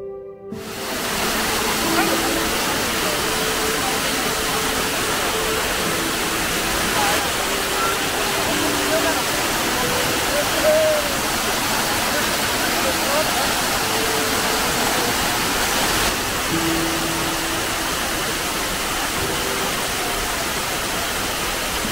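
A waterfall in Gangtok pours down in an unbroken, full roar of rushing water that stays loud and steady for the whole stretch.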